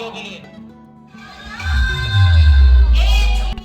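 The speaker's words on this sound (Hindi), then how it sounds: "जोरदार तालियां हमारे सभी मुख्य अतिथि और हमारे बड़े भाइयों के लिए" Crowd at a Chhath Bhavani festival stage event in Devipura, Bulandshahr, erupting into loud applause and cheering with whoops for the chief guests, swelling midway and holding strong over low booming bass.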